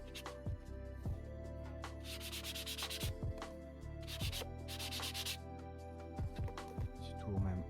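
The top edge of a book being sanded, heard as rhythmic bursts of rasping strokes over a steady low hum, with clicks and handling noises between passes.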